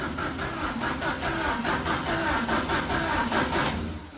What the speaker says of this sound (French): Y a le moteur de ralenti qui régule, normalement. On a remis un moteur de ralenti. Vas-y, accélère Romain.